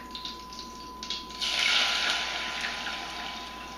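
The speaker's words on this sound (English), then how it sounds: "we're going ahead and add 1 cup of milk" A cup of milk is poured into a pot of melted butter while making gravy, giving a soft, steady, close stream of liquid that swells partway through and continues to the end.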